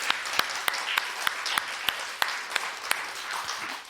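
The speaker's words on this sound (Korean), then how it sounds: "우리 크게 박수 한번 하나님께 올려드릴까요?" Church congregation clapping together during a Sunday morning Easter service, a loud rhythmic unison beat with sharp regular claps layered over a broad wash of applause.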